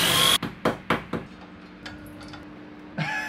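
Screws being driven into a wall to secure a TV wall mount, several sharp knocks and bursts of tool noise in quick succession, then quieter rattling and a final thud, close by with no talk.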